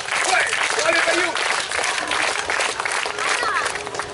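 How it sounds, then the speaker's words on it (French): Outdoor crowd applauding along at a street performance in Commentry, dense clapping that keeps building in pace, with voices and cheers mixed in throughout. "Donc voilà comment faire applaudir tout un public avec 3 fois rien."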